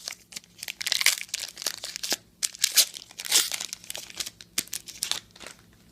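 A 2005 Series 1 trading card pack wrapper being torn open, with a run of close, crisp crinkling and tearing bursts in quick irregular succession.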